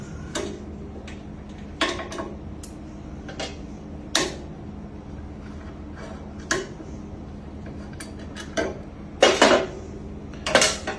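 Metal tool work on a bandsaw, taking two number 5 Allen screws out of a part on its side: sparse, sharp metallic clicks and taps at irregular intervals over a low steady hum, with no talking.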